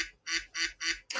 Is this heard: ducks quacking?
yes